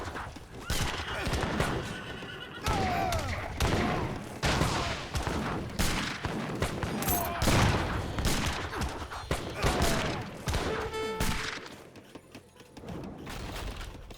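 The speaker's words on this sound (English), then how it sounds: "Musketeers gunning down some of these villagers" Musketeer volleys in an Age of Empires 3 battle, rapid crackling gunfire bursts mixed with horse whinnies and clip-clopping hooves, dense and busy throughout.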